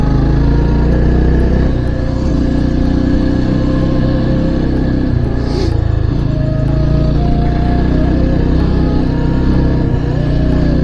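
A motorcycle rides at night on a mountain road toward Ukhimath, its engine a constant, loud, rough drone with wind rumble close to the rider, no voices over it.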